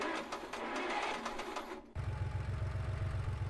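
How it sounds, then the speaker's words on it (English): A strange motor sound from the video game Elevator to the Moon: a faint whirring hum gives way to a rapid mechanical rattling pulse after a brief dropout, steady and close, with no voices. "Wait, what was that strange sound from the motor?"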